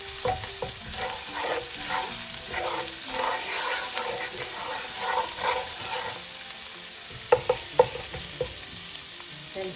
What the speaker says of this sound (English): add the ginger garlic paste and the other spices. Stir that in the oil.